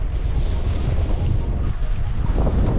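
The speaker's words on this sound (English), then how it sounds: "The wind's pretty strong." Strong wind gusting across a shallow lagoon where kiteboarders launch, a loud, steady rumble of wind buffeting the microphone with a wash of water behind it, continuous throughout with no talking.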